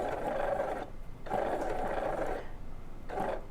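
A home sewing machine runs in three steady humming bursts while stitching curved quilt fabric pieces together, close and fairly soft, with short pauses between runs.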